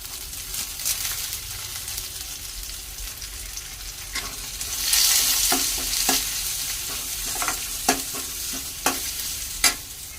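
Curry leaves sizzling in hot oil during tempering: a steady close frying hiss that swells midway, dotted with sharp crackles and pops toward the end, with no one speaking.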